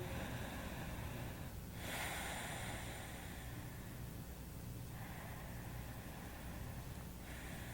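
Slow, steady breathing during a guided yoga relaxation, with soft breathy swells around two and five seconds over a continuous airy background hiss; no talking.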